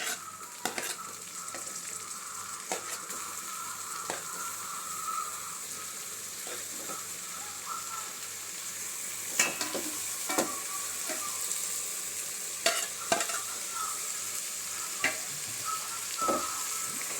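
Tomatoes and green chillies frying in a pan, a steady close sizzle with scattered clinks of a spoon stirring against the pan, no voices.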